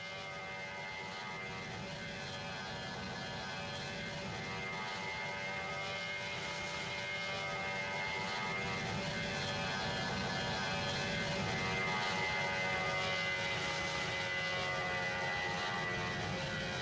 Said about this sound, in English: A320 does a steep takeoff at an airshow in France.